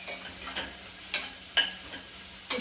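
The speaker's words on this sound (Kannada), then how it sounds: "ಇವಾಗ ಇದನ್ನು ನಾನು ಚೆನ್ನಾಗಿ ಮಿಕ್ಸ್ ಮಾಡ್ಕೊತಾಯಿದ್ದೀನಿ" Beans and carrots are stirred in a hot pan for vegetable oats, giving a soft, steady sizzle broken by several scraping strokes of the spoon, close and fairly quiet.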